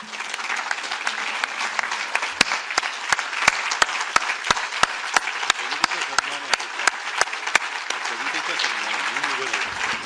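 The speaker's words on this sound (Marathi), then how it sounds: "शक्य झालं तर एकच विनंती, उठून उभं राहून टाळ्या वाजवूया," A seated audience at a Marathi poetry event rises for a standing ovation, filling the hall with loud, sustained applause marked by crisp rhythmic claps in unison, with voices mixed in.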